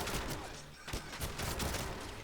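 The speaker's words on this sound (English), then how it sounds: "Automatic shotgun." Rapid blasts from an automatic shotgun in the video game 007 Legends, a dense run of loud, closely spaced shots with no pause across the short burst.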